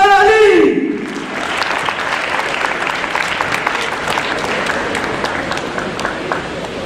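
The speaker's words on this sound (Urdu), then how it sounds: "حضور تالیوں میں استقبال کیجیے" Audience applause welcomes the chairman of the All Sindh Private School Association onto a school stage, a dense sustained clapping that follows a brief spoken announcement and fills the rest of the clip.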